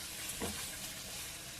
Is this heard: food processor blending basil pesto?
no